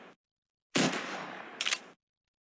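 Pistol gunfire in the zombie shooter game Zombie Hunter: Survival: a short blip, then silence, then a loud burst of rapid shots lasting about a second with a sharper flare near its end.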